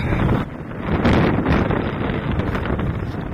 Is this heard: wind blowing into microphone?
yes